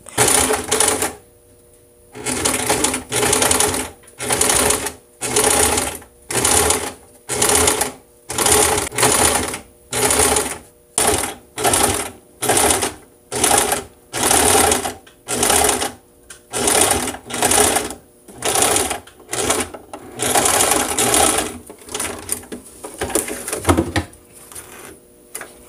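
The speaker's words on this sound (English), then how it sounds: "just sew around the perimeter of the neckline" A sewing machine stitches around the curved neckline of a fabric piece for an understitch, running in about twenty short bursts separated by brief pauses, loud and close with no talking.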